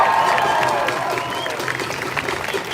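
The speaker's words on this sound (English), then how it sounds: "Make some noise for the high school students" Protest crowd applauding and cheering for high school students at a Daunte Wright rally, a steady wash of clapping and whoops close by with a few voices mixed in.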